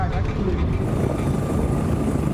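Rescue helicopter hovering during a flood caused by an extratropical cyclone, its rotor and engine producing a loud, continuous roaring drone with no pauses.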